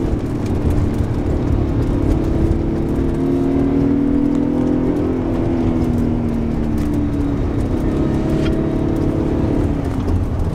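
Car being driven with worn rear shock absorber mounts, a steady close engine and road drone throughout with faint irregular creaking knocks over it; no talking.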